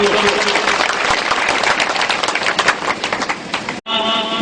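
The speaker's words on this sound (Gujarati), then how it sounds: "આપ સૌ જોરદાર તાળીઓથી એમનું સ્વાગત કરો." A crowd at a political public meeting claps loudly and steadily for several seconds, dense applause that fades briefly before a tonal sound takes over at the end.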